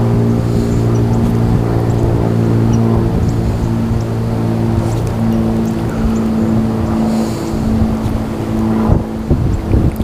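Wind blowing outdoors on a lake, a loud continuous rumble buffeting the microphone along with a steady low engine-like drone, with no talking.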